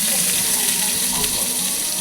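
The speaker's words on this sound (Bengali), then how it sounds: "সর্ষেটা দিয়ে সর্ষেটা একটু ভেজে নিয়ে আমড়াটা দিয়ে দিলাম ভাজার জন্য।" Hog plum pieces frying with mustard seeds in oil for a chutney give off a steady, close sizzle that hisses continuously without a break.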